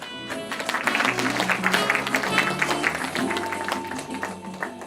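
Audience of about 3,000 applauding at a literary event in a large hall, a moderately quiet, sustained clatter of many hands with a faint tonal background underneath.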